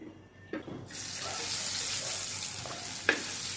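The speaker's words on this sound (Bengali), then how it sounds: "আমি দুইবারে মাছ ভাজা নেবো" Puti fish fry in mustard oil in a wok with a steady, moderately loud hiss that starts abruptly. A couple of short clanks break in at the start and near the end.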